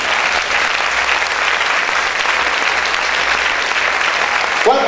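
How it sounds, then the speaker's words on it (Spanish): A church congregation applauds loudly, a dense steady wall of clapping running almost the whole time before cutting off abruptly at the end. "Aplaude fuerte al Señor."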